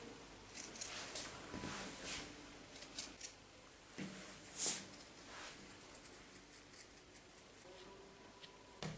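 Scissors cut through fabric for a Fly cape sewing kit, a soft, close series of crisp snips and rustles, faint and irregular, with no talk.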